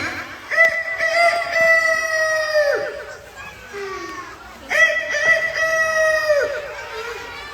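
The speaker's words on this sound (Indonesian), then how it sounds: "udah ada ayam berkokok" A rooster crows twice at dawn, each call a long drawn-out cry that tails off at the end. The bird sounds fairly close, with children's voices and other background noise mixed in.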